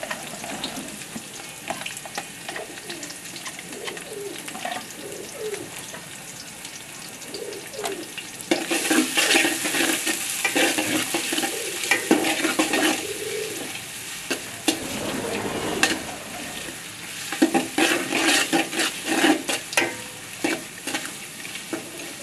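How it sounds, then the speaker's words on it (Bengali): Spices with chopped garlic and slit green chilies fry in a pan for khichuri, a continuous sizzle that swells louder partway through, with scraping stirs and faint bird cooing in the background. "মশলাটা ভাজা হয়ে গেছে, এবার দিয়ে দেবো ডাল।"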